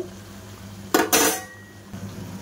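Two quick metallic scrapes and clanks as khaja sweets are turned over in a frying pan, close and sharp against a low background hum, with no voices.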